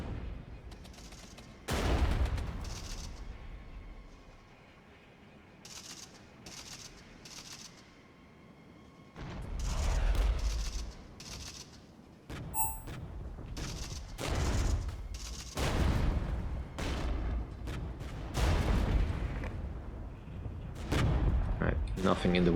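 Gunfire and artillery in the strategy game Regiments, heavy booming volleys and bursts arriving in clusters with quieter gaps between, while a player talks occasionally.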